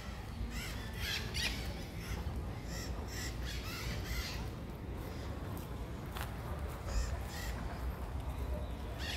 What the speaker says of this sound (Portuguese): Tá ouvindo, meus amigos, o canto da arara aqui, ó, no Parque da Luz